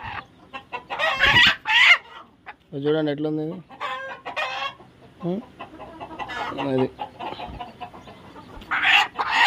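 Native country chickens on a farm cluck and squawk in repeated bursts close by, with some crowing-like calls, while someone talks over them.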